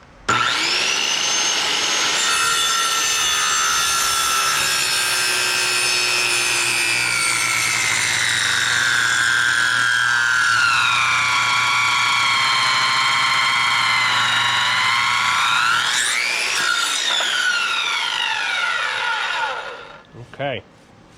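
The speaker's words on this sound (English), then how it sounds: "I like to put my speed square here to give the skill saw something to ride on" A circular skill saw rips through live edge wood, its steady high whine running about twenty seconds with shifting pitch as the blade loads, then winding down abruptly near the end.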